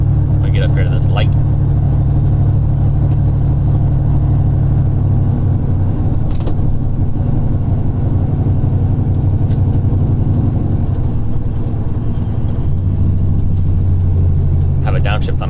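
A turbocharged car engine pulls steadily under acceleration while driving on the road, a loud, sustained low drone with shifting pitch and brief higher accents over the engine note.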